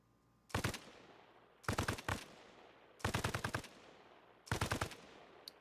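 Automatic gunfire in the video game Arma Reforger rings out in four distinct rapid bursts, each a loud cluster of shots separated by short pauses, with no talk over them.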